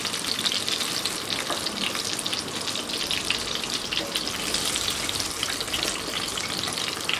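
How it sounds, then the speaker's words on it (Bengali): Singi catfish frying in mustard oil in a pan gives a steady, dense sizzle and crackle with a faint liquid undertone that holds close and even throughout, with no voices. "মাছগুলো আমি সর্ষের তেলে ভেজেছি"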